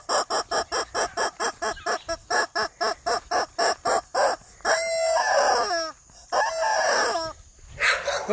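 Homestead chickens cluck in a quick, regular run of short calls, followed by a rooster crowing loudly nearby, with a second crow near the end.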